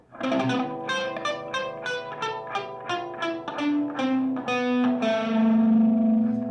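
Distorted electric guitar plays a chugging, palm-muted run of separate picked notes, stepping in pitch before ringing out on a sustained chord, heavy with effects.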